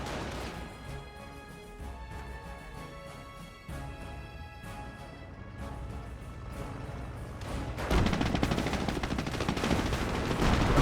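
Volksgrenadier infantry in Company of Heroes keep up rifle fire, dense crackling volleys of shots mixed with battlefield bangs, growing heavier and louder toward the end of the clip.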